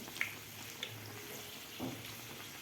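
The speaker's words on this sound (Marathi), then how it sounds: "थोडासा गोल्डन कलर होईपर्यंत आपल्याला हे तळून घ्यायचे आहे" Wheat semolina sanjori puris fry in hot oil over a medium flame, making a soft, steady sizzle with a few small pops and crackles. It stays faint and close, with no talk over it.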